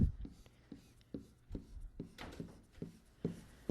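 Pen or marker strokes drawing a rectangle divided into parts on paper, a run of short scratchy taps spaced roughly every half second, close and fairly quiet, with no talking.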